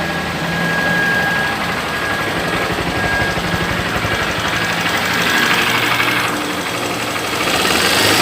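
A 2015 Honda NXR 160 Bros ESD motorcycle engine, prone to misfiring at high rpm once warm, is revved and held near full throttle, a loud, close, continuous buzzing drone with a rapid pulsing at the rev limiter.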